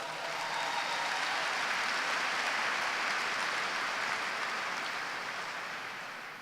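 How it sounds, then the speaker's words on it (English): Steady applause from a sizable crowd at a university commencement, a dense wash of clapping that holds evenly throughout and tapers slightly near the end, with no voices over it. "Let's give them a round of applause."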